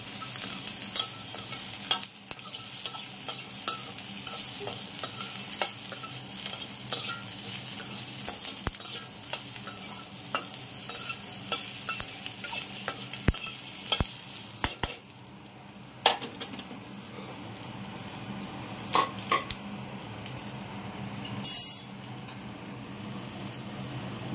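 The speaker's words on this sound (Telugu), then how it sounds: "మంచిగా పండులాగా మెత్తగా వేయించుకోవాలి" Tomatoes frying softly in a drop of oil in a pan for a peanut tomato chutney, a steady low sizzle with occasional stirring scrapes and clinks throughout, no voices.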